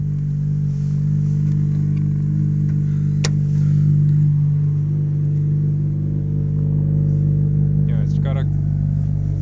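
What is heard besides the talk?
2013 Honda Civic Si engine running with deep exhaust tone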